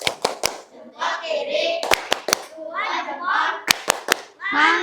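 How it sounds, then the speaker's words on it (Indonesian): An elementary classroom performs a rhythmic group clap, sharp synchronized hand claps in short patterned bursts alternating with children chanting together between them. "Tepuk mantap."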